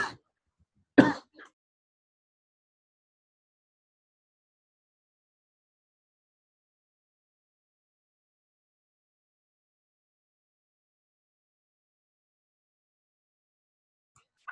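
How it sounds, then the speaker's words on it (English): A single short cough or throat clear near the microphone, followed by a long stretch of silence. "I'm just going to cough."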